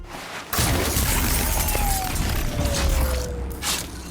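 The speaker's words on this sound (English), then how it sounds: "smacking Aloy's spear against robots is really, really noisy" A sudden heavy metallic impact and clatter with mechanical creaking and grinding, busy and loud, as a spear smacks into a robot amid video game action.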